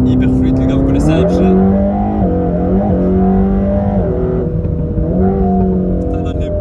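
A Mercedes-AMG engine is pushed hard under acceleration, its loud exhaust rising in pitch and dropping with each smooth gear change, with rough crackling pops from the rear; the sound is close and continuous, and a voice can be heard over it.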